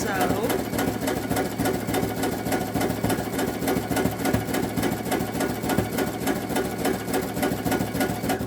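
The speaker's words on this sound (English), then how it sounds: "So I'll just let that sew." A Baby Lock Sashiko sewing machine stitches steadily, a rapid, continuous mechanical chatter that runs without a break while a person talks over it.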